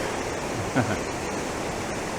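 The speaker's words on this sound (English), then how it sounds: "So from here you can see the falls going down." Crabtree Falls waterfall seen from an observation deck in Virginia, a steady broadband rush of falling water that holds even throughout, with a brief soft knock partway through.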